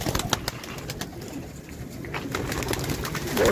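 Pigeons offered for sale coo throughout, low and continuous, among sharp clatter and shuffling noises in a busy, cluttered setting.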